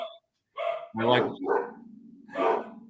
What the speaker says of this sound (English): I'm sorry about the dogs. Nothing I can do.